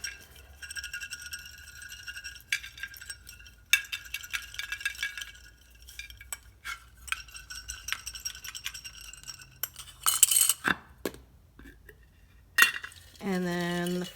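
Paper slips are shaken inside a lidded jar, giving repeated bursts of rattling, clinking jar noise in irregular rhythm, close and fairly loud, with brief pauses and a lid sound near the end.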